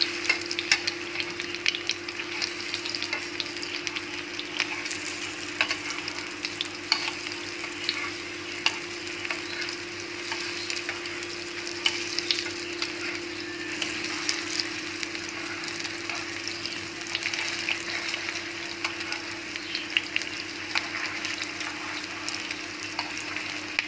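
Resha kebabs frying in a pan and being turned over: a constant close sizzle dotted with small clicks and scrapes, over a steady low hum, with no one speaking.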